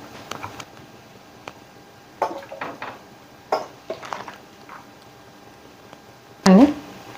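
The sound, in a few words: cooking pot being placed on the stove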